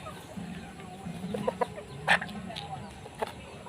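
Purebred laying hens bought as a pair cluck in short, scattered bursts at moderate distance, with a louder squawk near the middle and a few softer calls around it over a low background hum.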